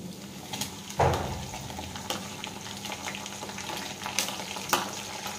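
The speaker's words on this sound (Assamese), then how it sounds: "প্ৰথমতে পিঁয়াজটো দি লওঁ" Chopped onion frying in a hot pan, a steady close sizzle with a few louder crackling bursts as the pieces are stirred.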